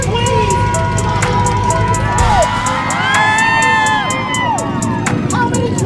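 A large crowd at an outdoor street unity march cheers and whoops loudly and continuously, close by, with excited shouts and voices mixed into the roar.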